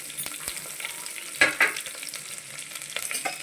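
Onions and green chillies fry in a tempering of cumin, chana dal, urad dal and fenugreek seeds. A soft, close sizzle runs under scattered clicks and a couple of sharper scrapes of a stirring spoon. No voices.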